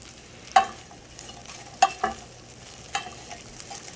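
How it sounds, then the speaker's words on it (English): Bread cubes seasoned with salt and pepper toasting in a frying pan, with a few sharp clatters as they are stirred and tossed over a faint background sizzle; no talking. "Okay, those are toasting slash burning up nicely."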